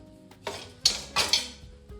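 A few light, crisp clattering taps and rustles as crunchy air-fried chips tumble out of the fryer basket onto a surface, four or five quick bursts.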